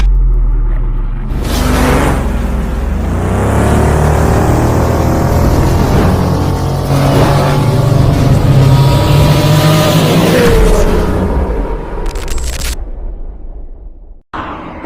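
Bajaj Pulsar RS 200 motorcycle cruising on a highway, a steady loud engine drone with wind rumble throughout, rising in pitch as it gathers speed, then cutting out abruptly near the end.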